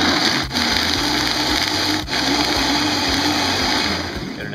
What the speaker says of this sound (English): trusty Vitamix, most beautiful blender.